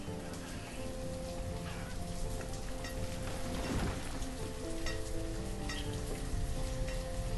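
Steady, dense rainfall hisses without a break in the village-building game Banished, a constant close wash of drops on surfaces with no talk over it.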